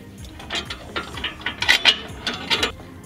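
Bolting down an exhaust mid pipe on a BRZ/86/FRS produces a series of close metallic clicks and ratcheting taps, irregular and quick, with small clinks of hardware and no talking.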